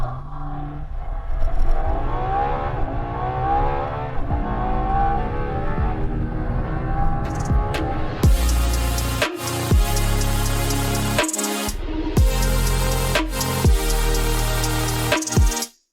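A Ferrari LaFerrari supercar launching hard, its engine revving up in a rising howl, then shrieking through rapid gear changes with sharp cuts between pulls, loud and close throughout.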